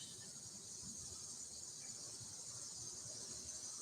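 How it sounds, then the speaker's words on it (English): Crickets chirr steadily at dawn beside a Zen temple, a continuous high shimmering trill holding evenly throughout, soft and somewhat distant with a faint low background hum and no voices. "The chirring of crickets"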